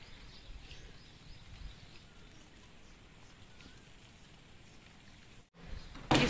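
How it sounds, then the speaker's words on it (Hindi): Rain falls steadily as a broad, even hiss, close and moderately loud, with faint bird chirps in the background; a brief dip near the end is followed by a louder burst. "गाइस, बारिश का ना मजा ही कुछ और है।"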